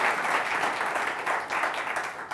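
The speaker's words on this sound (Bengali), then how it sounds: "থ্যাংক ইউ তালি দেন" An audience applauds at a live talk-show taping in a studio, with dense continuous clapping that rises and dips slightly over a couple of seconds, fairly loud and close.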